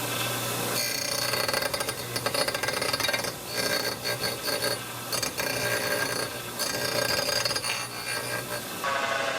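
A bench grinder grinds down raised spots on a cast iron vise, giving a loud, continuous abrasive whine with rough rasping bursts that rise and dip as the metal is pressed against the wheel.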